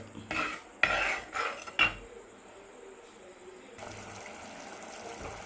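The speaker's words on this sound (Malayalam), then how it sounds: "അതും ഒന്ന് ഇളക്കി മിക്സ് ചെയ്ത് അതും ഒന്ന് കുറുകി വരുന്നവരെ വെയിറ്റ് ചെയ്യുക" A spoon stirs Kerala-style chilli curry in a pot, giving several quick metallic clinks and scrapes in the first two seconds before a quieter, steady simmering hiss.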